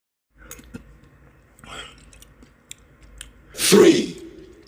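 Loud, close slurp of spicy Korean ramen broth made with less water than usual, a single burst after several quieter mouth and chewing noises.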